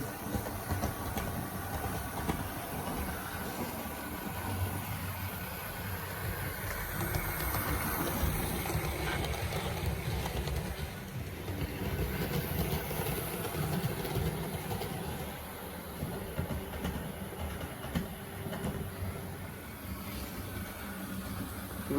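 A Bachmann GBRF Class 20 model locomotive runs along the track with a steady whirring motor hum and rolling wheel rattle, unbroken and fairly close, with no speech.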